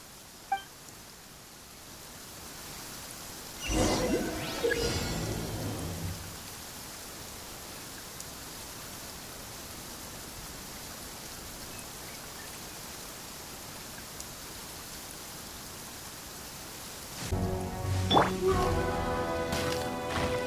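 Steady rain hiss fills the background of a Genshin Impact scene, with two louder bursts of rumbling thunder, one early and one near the end, and nothing audible between them but the rain.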